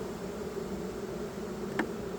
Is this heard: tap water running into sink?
no